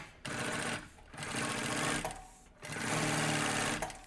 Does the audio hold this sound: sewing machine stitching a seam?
yes